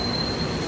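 A train departing Purwokerto station in Indonesia, close and loud, with a steady rolling rumble and a thin, sustained high wheel squeal running throughout the brief moment.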